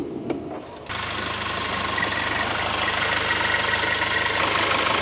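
A Mercedes Sprinter van's engine cranks briefly, catches and settles into a steady, even idle that holds close and constant to the end.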